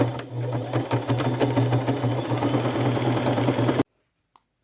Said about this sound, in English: now I'm going to go to my machine, and with black thread, I'm just going to do a straight stitch all the way down